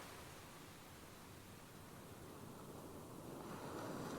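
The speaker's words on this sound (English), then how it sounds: "listen to the waves" Ocean waves wash steadily onto a shore, a soft continuous rush that swells a little louder toward the end, heard alone without voices.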